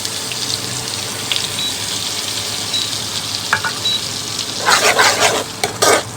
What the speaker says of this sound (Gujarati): પછી નાખશું ડુંગળી અને ટમેટાની પેસ્ટ,